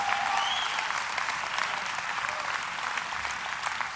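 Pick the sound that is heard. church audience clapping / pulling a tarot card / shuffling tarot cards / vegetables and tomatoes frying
church audience clapping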